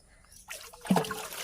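Water trickles and splashes as it is poured out for pets to drink and bathe in, a short, fairly quiet pour that builds and grows splashier toward the end.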